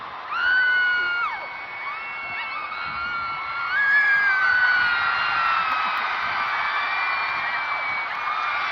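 A packed crowd at a concert screams and cheers in sustained high-pitched whoops and shrieks, loud and continuous with overlapping voices rising and falling throughout.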